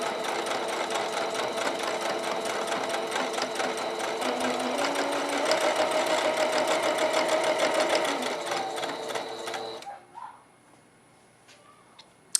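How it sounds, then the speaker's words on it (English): A sewing machine runs continuously, chain-stitching rag quilt pieces one after another, a steady close rapid whirring hum that stops near the end, leaving faint handling sounds. "you'll just keep on sewing through. And you'll just go through this whole entire stack"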